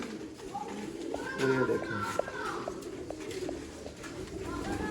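Sialkoti pigeons coo in soft, rolling bursts close by while someone talks over them.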